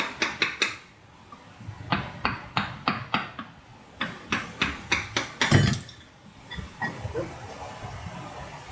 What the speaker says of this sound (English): tool that's really handy is this little dead blow hammer